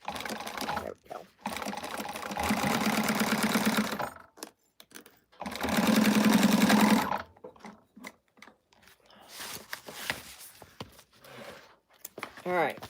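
Sewing machine stitching a zipper onto a slouch shoulder bag runs in two close bursts of rapid mechanical whirring, separated by pauses filled with handling clicks and rustling, with quieter tapping and shuffling toward the end.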